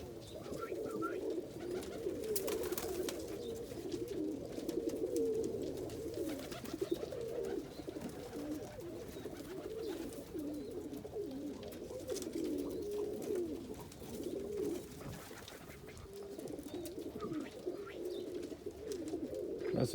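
An Indian Fantail agate pigeon hen coos softly and repeatedly, a steady low murmuring bubbling along for the whole stretch with no talk over it.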